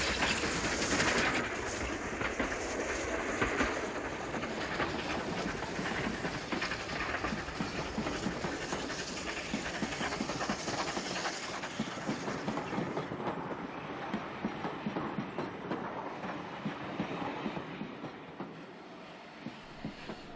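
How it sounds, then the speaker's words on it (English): A pannier tank steam locomotive pulls forward at Sidmouth station with steady rumbling and rail clatter, fairly loud and continuous, gradually easing off toward the end, with no talk. "the crowds look on as the pannier tank pulls forward to run round its train"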